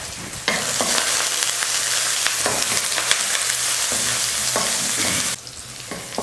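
Onions frying in hot oil with mustard seeds, urad dal and curry leaves for a cabbage stir-fry, a loud, continuous sizzle with occasional stirring scrapes, then dropping quieter near the end.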